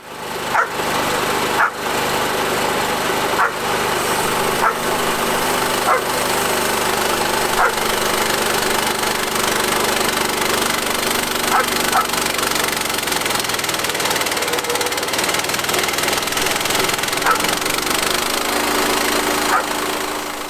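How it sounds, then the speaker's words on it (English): A sawmill motor cuts through a massive 26-inch black walnut log and labours loudly and steadily as it bogs down at a knot, with strained squeaking and grinding running through the whole stretch. "Here you can hear the motor start to bog down and making a squeaking sound as it tries to pull through this knot area."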